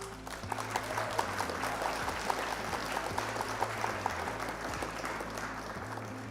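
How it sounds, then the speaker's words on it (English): A small round of applause for an opponent at a Flesh and Blood card game stream, light steady clapping from a few people over a low hum. "round of applause for our opponent"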